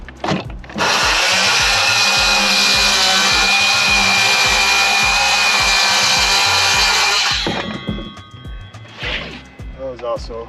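Blower clearing sawdust on a shop build, a loud, continuous high-pitched roar running for about seven seconds close by, followed by scattered knocks and handling sounds.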